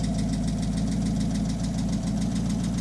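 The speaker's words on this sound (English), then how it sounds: "Lifter's there, but I think it'll quiet down after just a little bit." A 1948 Buick Super Woody Wagon engine idles steadily with a fast, even lifter tick over the low rumble, close and continuous.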